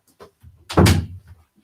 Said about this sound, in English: I'm just going to close my door because my dog just opened it